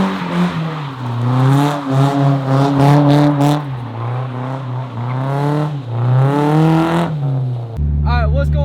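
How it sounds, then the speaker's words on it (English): A 1991 Nissan 240SX S13 coupe's engine rises and falls in pitch close by, loud and continuous, revving repeatedly before cutting to a different sound at the end. "This is my 1991 Nissan 240 SX S13 Coupe."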